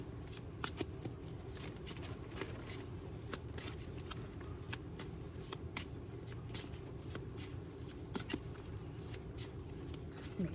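A Goddess Oracle card deck being shuffled by hand, with soft, rapid riffling and flicking of cards that goes on steadily and quietly at close range, with no talking.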